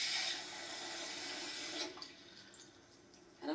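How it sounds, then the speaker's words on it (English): Water runs steadily from a tap or pitcher, a hissy, close pour for about two seconds that then thins to faint drips, meant for filling a baking dish of tomatoes, oil and pecorino. "And now I'm going to get some water,"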